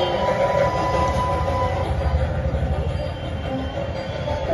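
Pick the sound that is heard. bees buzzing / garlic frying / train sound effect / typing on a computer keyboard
train sound effect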